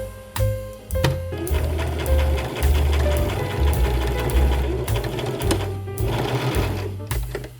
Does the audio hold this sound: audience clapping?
no